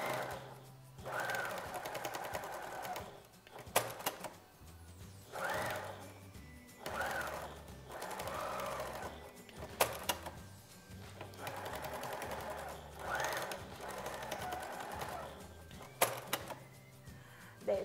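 Sewing machine stitching a cotton face mask, pressing a seam from the outside, running in repeated bursts of steady mechanical whirring with brief pauses between passes, close and fairly loud.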